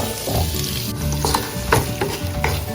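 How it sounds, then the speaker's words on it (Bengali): A whole onion dropped into hot oil where potatoes were just fried, giving a loud, busy sizzle with repeated bursts of crackling and stirring scrapes, close and with no talking. "এখন একটা গোটা পেঁয়াজই দিচ্ছি এর মধ্যে, তেলের মধ্যে"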